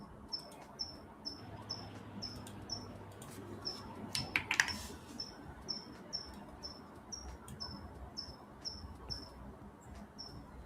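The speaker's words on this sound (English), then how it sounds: "When y'all got a cricket?" A single cricket chirps indoors in short, evenly spaced bursts, faint but steady over low room noise, with a brief thump partway through.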